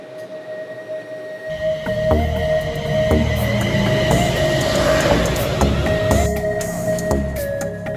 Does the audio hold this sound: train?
yes